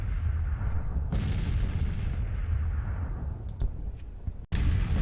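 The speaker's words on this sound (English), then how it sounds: "Our artillery is brutal when it gets up close to infantry." Artillery fire in the Civil War strategy game Grand Tactician, a dull rumbling boom rolling under steady low battle noise, followed by a few sharp distant cracks.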